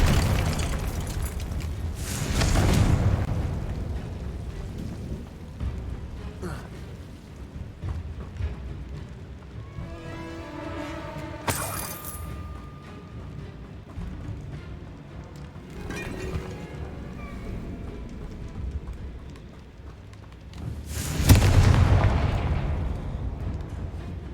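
Confringo blasting spell explosions in Hogwarts Legacy: several deep booming blasts spread across the stretch, one early, others in the middle, and a heavy blast near the end, with rumbling game action between them and no talk.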